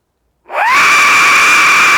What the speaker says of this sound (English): I've got the death whistle